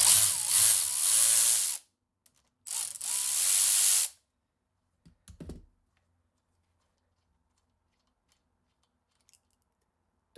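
A 14 mm crank bolt is worked loose on a square-taper bicycle crank with two bursts of close, harsh ratcheting, followed by a few faint metallic clicks and taps amid silence.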